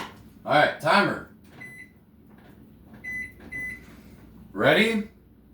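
A workout timer gives three short electronic beeps: one on its own, then two close together, with people talking before and after.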